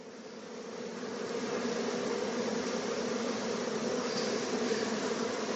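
A honey bee swarm buzzing steadily and densely, close by, with bees fanning in a continuous hum that swells slightly after the first second and holds.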